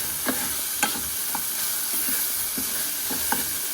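Ingredients for a yogurt gravy fry in a pan, a steady hiss broken by a handful of scraping, knocking stirs at uneven intervals.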